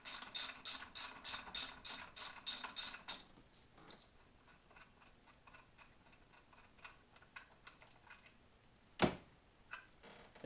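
A ratchet wrench clicks rapidly in a rhythmic burst, loosening the crankshaft pulley bolt on a 1996–2002 Camaro 3800 V6, then slows to sparse, quieter ticks with a single sharp clank near the end.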